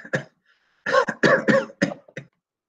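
A voice performs a wracking cough from a nitre-damp wine vault, several harsh, throaty bursts in an uneven run with brief gaps, close and alone.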